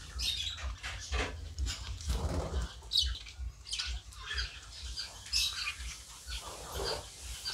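A baby budgerigar chick with its feathers not yet grown in gives repeated soft squawks and chirps close by. There is a steady low hum underneath and no talking.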